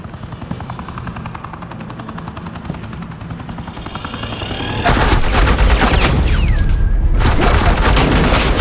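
Sustained suppressing gunfire in the game Telltale Batman: The Enemy Within, rapid automatic bursts over a loud helicopter-like drone, growing heavier and denser midway and staying loud and close to the end.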